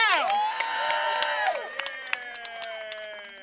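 Rally-goers at the California State Capitol cheer and clap after a bus trip to Sacramento, a faint spread of shouts and scattered claps that fades gradually.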